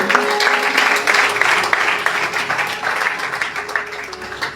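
A church congregation applauds with dense, steady clapping that stays fairly loud from start to finish.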